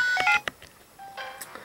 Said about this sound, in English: The X-Transceiver is ringing.